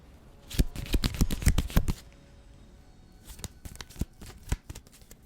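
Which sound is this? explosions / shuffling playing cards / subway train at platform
shuffling playing cards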